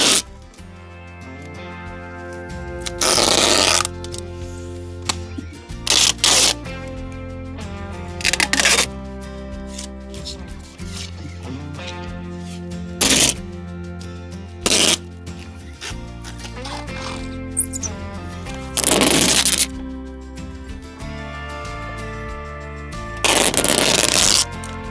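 Owens Corning pink wrap tape is pulled off its roll and pressed onto a backyard studio's weather barrier in repeated loud ripping bursts, several seconds apart over a low background hum.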